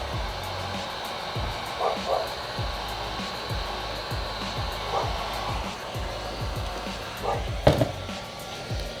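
A heat gun blows hot air onto a vinyl wrap, making a steady close whooshing hum that runs throughout, with repeated soft thumps and handling taps over it.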